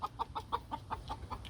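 A broody hen clucks in a steady run of about eight short, evenly spaced calls, close and clear over low background hum.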